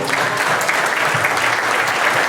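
Audience applause at a ufology congress in Lima, a steady dense wash of clapping from a large crowd, loud and continuous throughout with no voices.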